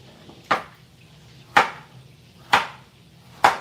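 A knife chops through potatoes on a cutting board for mashed potatoes: four sharp, evenly spaced thuds about a second apart, each with a crisp attack and short decay, close and clear with no talking.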